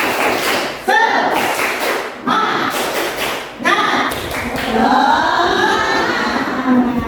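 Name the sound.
rhythmic spirit clapping (tepuk semangat) by group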